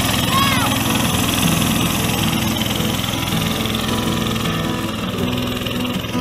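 A small go-kart engine in a T-bucket rat rod build revs under throttle, a loud, close, continuous buzzing drone that holds steady for several seconds.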